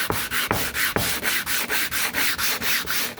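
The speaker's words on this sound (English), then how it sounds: "We're going to sand the surface." A wooden board is sanded by hand, giving rhythmic back-and-forth scratchy rubbing strokes, about seven in three seconds, close and clear with no talking.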